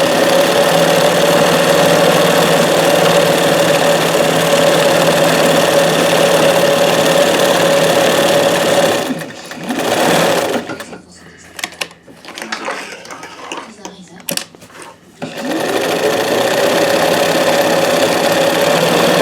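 A domestic sewing machine stitches a moonscape quilt in a steady, loud motor whir close by. The whir breaks off midway for a few seconds of quieter, uneven sound, then resumes at full speed.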